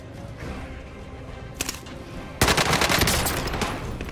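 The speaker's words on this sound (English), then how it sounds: "I hit the guy who was shooting at Cookie." Gunfire in the Warzone video game: a short burst near the middle, then a loud, sustained run of rapid automatic shots filling the last part, with no talk over it.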